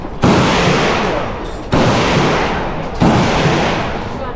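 Rounds from an AK rifle at the Cu Chi shooting range in Vietnam crack out in three loud, close shots, spaced well apart, each leaving a broad booming decay.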